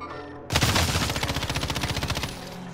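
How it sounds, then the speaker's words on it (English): A sustained burst of rapid automatic gunfire in Call of Duty Modern Warfare, loud and close, with evenly spaced shots rattling for about two seconds. "More people shooting."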